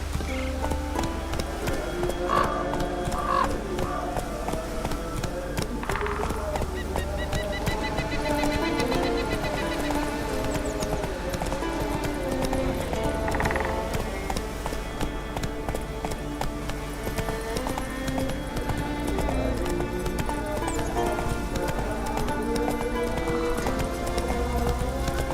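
Roach, the horse in The Witcher 3, trots along. Steady, rhythmic clip-clop hoofbeats run close by throughout, with a game music bed underneath and no voices.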